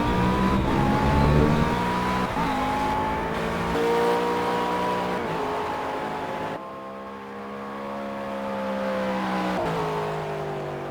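Engine of a McLaren MP4-12C GT3 race car in the Project Cars simulator at Laguna Seca, a loud continuous high-revving whine rising through gears with brief shift dips, steady throughout without talk.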